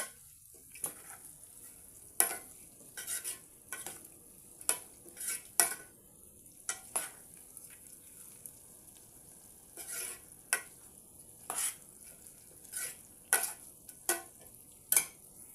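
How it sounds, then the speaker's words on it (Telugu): Fenugreek dal is stirred as it fries in a pan: repeated close scrapes and clinks of a spoon against the metal come in irregular bursts over a faint sizzle, with no talking. "సిమ్లో పెట్టేసి కలబెట్టేసేయండి"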